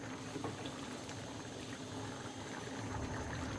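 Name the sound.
chickpea dal curry with chicken boiling in a pot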